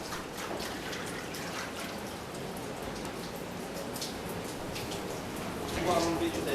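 Water drains from a freshly formed sheet of paper in a 17th-century paper mill, a steady dense patter and trickle like light rain that holds evenly and swells slightly near the end.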